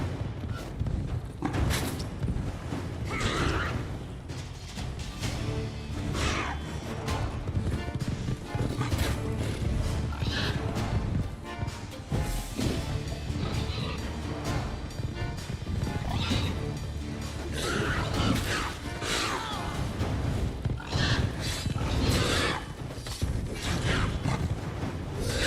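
Horse in The Witcher 3: Wild Hunt – Blood & Wine, with clip-clopping hooves and occasional whinnies mixed into a dense, loud game soundscape of clattering and creaking, running continuously without letup.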